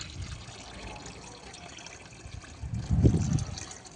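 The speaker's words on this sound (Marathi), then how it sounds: "आणि मग थोडं थोडं पाणी टाकायचं" Water poured slowly, a little at a time, onto plain soil while planting a lotus tuber, a faint soft trickle that swells briefly near the end, with no talking.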